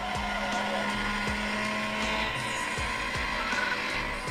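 Cars racing in a PS2 racing game running on the AetherSX2 emulator on an iQOO Z7 5G phone, a steady loud engine drone with repeated skid-like squeals and thumps, no talk.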